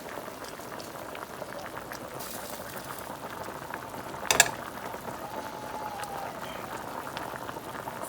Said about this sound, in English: Our smoked neck bones are at a hard boil.